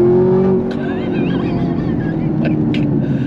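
A race car under throttle accelerates hard, its loud steady engine drone joined by bursts of high tire squeal and skidding chirps, all up close without talk.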